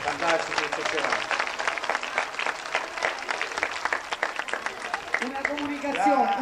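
Theatre audience applauding at the end of an Italian dialect play, dense sustained clapping filling the hall for several seconds, with a few voices and cheers rising near the end.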